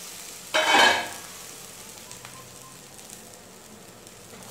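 Masala for chicken dum biryani is stirred in a frying pan, giving one short burst of loud sizzling and scraping, then a low steady simmer that continues alone.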